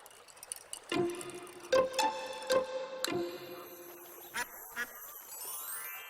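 A toy or cartoon duck quacking in a children's animation, a series of short, bright, evenly spaced quacks with chiming tones between them, close and clear over near silence.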